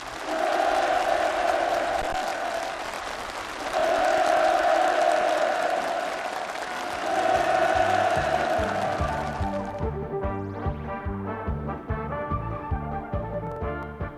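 Warm applause from participants at a housing permit ceremony for new farm homes at Changso Farm, Sinhung County, a dense steady crowd sound that continues for about ten seconds before music takes over.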